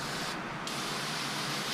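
A continuous hiss of cleaner spraying from a can onto individual throttle bodies of an S54 engine, close by, with one brief interruption.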